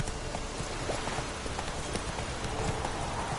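Hooves of the horse Roach clatter at a steady running gallop in The Witcher 3, a continuous clip-clop over a wash of rain-like noise, fairly loud and unbroken throughout.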